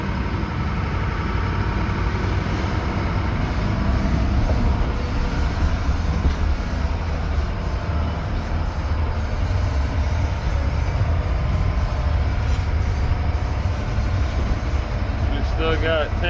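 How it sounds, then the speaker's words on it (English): Strong wind at sea aboard a shrimp boat roars as a constant, loud broadband rush mixed with engine drone, filling the whole stretch without letup. "You can hear the wind."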